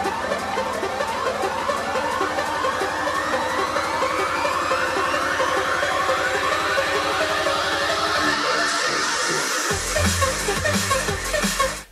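A spacey synth riser with delay climbs steadily toward a drop, its layered tones sweeping upward with echoing repeats, loud and dense, then thinning to a bright, airy wash near the end.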